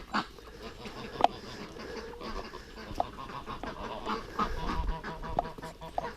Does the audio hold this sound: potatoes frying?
no